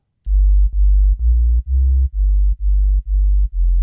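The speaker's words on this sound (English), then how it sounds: "Now, I'm going to play the bass on its own." A steppas bass synth in Ableton plays alone, with eight deep, loud, evenly spaced notes in a steady, driving rhythm and a short gap between each.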